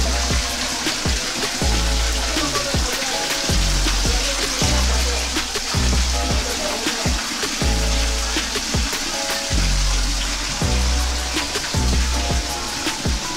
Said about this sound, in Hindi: उसी रूम के अंदर जो गाय के स्टोन के मुंह लगे हुए हैं, उसमें से 1200 वर्ष से लगातार पानी आता है